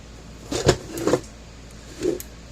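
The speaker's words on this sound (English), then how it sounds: "see it flashing along there and clicking." A Dare Enforcer DE1200 electric fence charger clicks three times at a slow, irregular pace, each sharp, moderately loud click followed by a short resonant buzz, with a quiet background between pulses.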